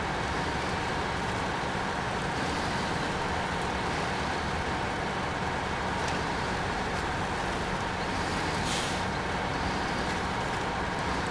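Heavy truck from SnowRunner grinding along with a steady, dense engine drone and rumbling drivetrain noise, continuous and loud throughout with little variation.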